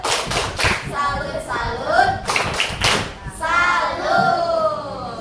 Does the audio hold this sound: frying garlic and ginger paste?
no